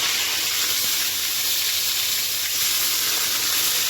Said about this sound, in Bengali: এবার মাছগুলোকে উল্টে দেবো।